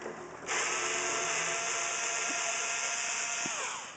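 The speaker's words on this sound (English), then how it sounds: "Remove three screws from the edge of the box." A power driver whirs steadily as it backs screws out of the edge of a box, one continuous near run of motor noise with faint clicks.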